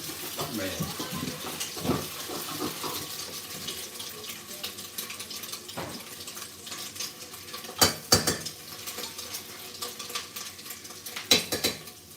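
Food being dry-roasted in a pot, a utensil scraping and clanking against the metal in irregular strokes, some sharper knocks standing out over faint background noise.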